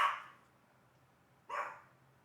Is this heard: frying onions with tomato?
no